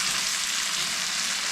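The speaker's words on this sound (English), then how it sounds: "we're going to stir this until the beans are hot and the brown sugar is absorbed" Steady, close sizzling of apples, sausage and kidney beans with brown sugar being stirred in a hot skillet, an even hiss throughout with no talking.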